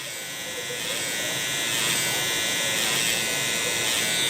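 An electric hair clipper hums steadily and close while cutting hair during a low taper haircut, a continuous buzzing drone that grows slightly louder as the blade meets the hair.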